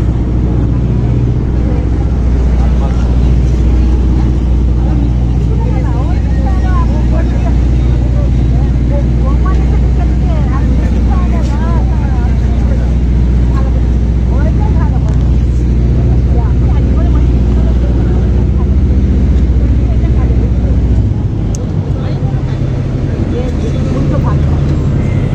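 A river ferry pulls in to dock at Sheoraphuli ghat, its loud continuous engine drone and hull rumble filling the whole stretch, with people talking in the background.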